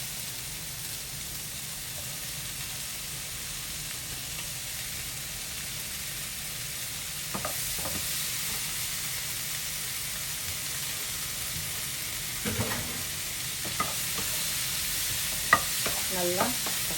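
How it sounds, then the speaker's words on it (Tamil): Small onions and tomato sauté in a pan for sambar, giving a steady hissing sizzle throughout, with occasional utensil scrapes and light knocks in the later part, close and with no talking. "நல்லா தக்காளியும் சேர்ந்து வதங்கி வதக்கும்."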